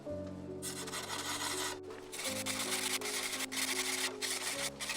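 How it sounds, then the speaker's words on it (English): A steel sword blade is draw filed by hand before heat treating, long continuous rasping strokes with brief pauses between passes, close and steady with no voices. "The final step before heat treating is to draw file the sword"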